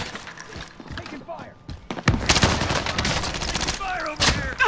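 Call of Duty gunfire: bursts of rapid automatic shots and loud fusillades, dense and continuous in the second half, with game effects and players talking over it.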